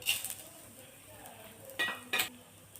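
Lump of asafoetida and garlic cloves frying in oil, a soft sizzle with a few sharp clinks of a utensil against the pan, quiet and close.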